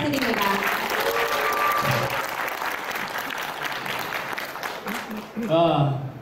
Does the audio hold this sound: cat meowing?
no